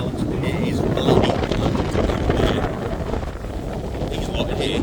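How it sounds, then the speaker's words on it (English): Wind buffets the microphone on a wet, windy ferry crossing to the Isle of Mull, a continuous rough rumble with engine and water noise underneath. "Typical wet and windy ferry over to the Isle of Mull."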